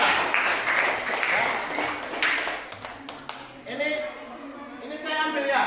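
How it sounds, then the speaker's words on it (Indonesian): Classroom applause for a student group, a broad wash of clapping with a few sharper slaps that fades as a teacher begins speaking over it. "tepuk tangan dulu untuk kelompok 2"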